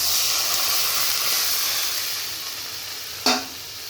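Water poured into a hot pan of tomato-based fish curry sizzles and hisses steadily up close, with a sharp burst of spattering near the end.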